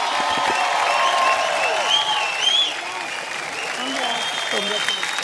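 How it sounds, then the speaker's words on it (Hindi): Sustained, loud audience applause at a folk song competition, with dense clapping holding steady and then easing slightly toward the end. "जोरदार तालियां हो जाएं।"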